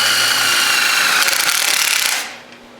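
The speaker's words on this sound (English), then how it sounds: "I've got to put some holes in this metal that I cut yesterday so I can weld it to the" A power drill bores holes in sheet metal with a loud, continuous high whine and grinding, which runs steadily for about two seconds before stopping abruptly, with no voices.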